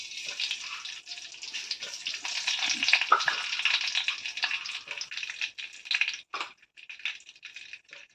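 Mustard seeds spluttering in a little hot oil, a close crackling sizzle with irregular pops, fluctuating and thinning toward the end, no voices.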